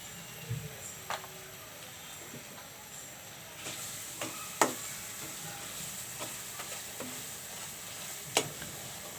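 Eggplant and fish sautéing in a pan, a soft, low sizzle with occasional sharper crackles and stirring clatters, fairly quiet and close, growing a little livelier partway through.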